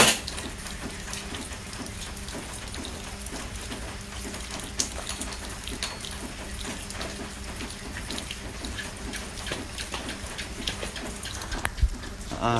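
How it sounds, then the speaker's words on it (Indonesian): Steady rain pattering down in Semenyih, a dense continuous hiss of drops on surfaces with a few sharper splashes, nearby and even in level throughout. "dekat Semenyi hujan"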